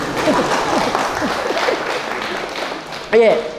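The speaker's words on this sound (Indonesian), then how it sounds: "Tepuk tangan kalau kita tepuk tangan" Scattered audience clapping at a school literacy seminar, a soft steady patter running underneath someone speaking over it.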